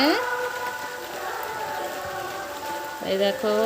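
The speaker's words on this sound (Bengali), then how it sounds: "এই দেখো বন্ধুরা, আমাদের এখানে বৃষ্টি হচ্ছে" Steady rain hisses throughout, with a faint tonal, music-like sound from a loudspeaker running underneath and briefly swelling near the end.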